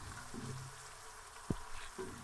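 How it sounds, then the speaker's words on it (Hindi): Fish curry masala sizzles in a pan with a little water added, giving a faint, steady hiss with a few soft pops and crackles. "अब इसमें थोड़ा सा पानी शामिल कर लेंगे।"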